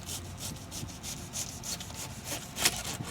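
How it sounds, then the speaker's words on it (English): A knife shaves thin slices of lettuce in a series of soft, rhythmic strokes, each a quiet rasping swipe, with a sharper scrape near the end, close and faint with no talk. "I'm just gonna cut this super, super thin all the way down, essentially taking shavings off"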